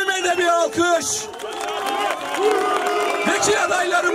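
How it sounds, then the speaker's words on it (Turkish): Crowd at a political party rally applauding and cheering, clapping mixed with shouting voices and babble, loud and continuous with voices rising over the noise. "Buradan vekilime de bir alkış."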